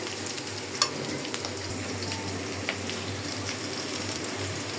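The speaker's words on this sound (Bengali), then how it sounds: "আমি কিন্তু পেঁয়াজ রসুন দিয়ে দিলাম তেলে" Onion and garlic fry in hot oil with a continuous close sizzle and crackle, broken by a few small sharp ticks and clinks, with no voices.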